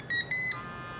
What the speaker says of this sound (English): I'll turn it on real quickly so you can sort of hear how the beeps sound when you first start it.